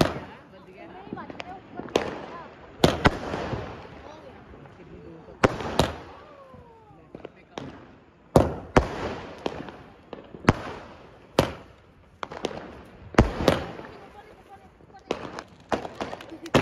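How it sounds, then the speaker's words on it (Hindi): A big 25-shot Diwali firework cake fires outdoors, giving a series of sharp booming cracks at irregular intervals with crackling tails between them, moderately distant, no speech over it. "गाइस अभी चला रहे हैं बड़े 25 शॉट,"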